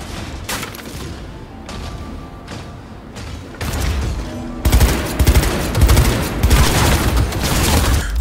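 Rapid automatic gunfire with tracer rounds in Cyberpunk 2077, sporadic bursts at first, then a louder sustained fusillade of close, cracking shots in the second half.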